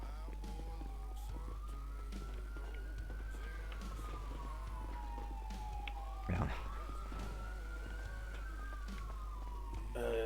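A fire engine siren wails in the GTA video game, rising and falling in long slow sweeps over a steady low hum. There is a brief bump partway through and no speech.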